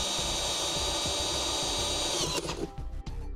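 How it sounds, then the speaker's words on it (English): A power drill fitted with a half-inch bit bores a hole during a trailer brake controller installation, whining at steady high speed up close, then stopping abruptly near the end, leaving faint handling noises. "We'll go ahead and drill out a hole using a half inch drill bit."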